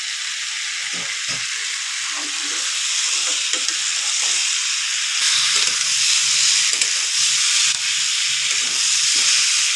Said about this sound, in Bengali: দিয়ে দেবো ভেজে রাখা মাছের মাথাগুলো। এগুলো দিয়ে আমি অল্প একটু নাড়িয়ে নেবো।